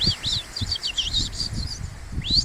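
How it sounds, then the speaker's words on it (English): Goldfinches give a rapid series of high, twittering, warbling calls, close and fairly clear. Gusty wind rumbles steadily beneath them. "goldfinches this time of year make crazy noises"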